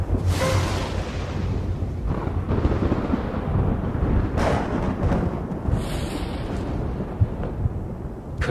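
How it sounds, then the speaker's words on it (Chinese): Thunder rumbles through a drama scene on a fine, sunny day, a dense, continuous low roar with brief swells that fills the whole stretch. "这么好的天怎么会打雷啊？"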